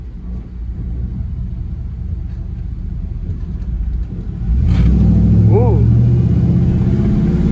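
A 1998 Ram 1500 van with a swapped-in Hemi V8 rumbles along from inside the cabin, then its engine note jumps louder and deeper as it accelerates hard, while a person briefly exclaims.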